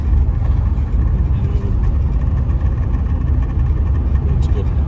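A classic Ford Sierra's engine pulls as the driver accelerates, a steady low drone that swells slightly, heard from inside the car beneath a voice.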